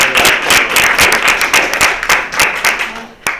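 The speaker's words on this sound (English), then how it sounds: "Why don't we give another round of applause?" Audience applause at an NAACP Detroit Branch community law school event: dense, steady clapping from a room full of people, loud and close, continuing throughout before a final sharp clap near the end.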